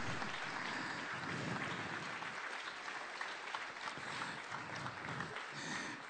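A crowd at a French political party meeting claps together, giving a dense, steady wash of applause that continues without a break for several seconds.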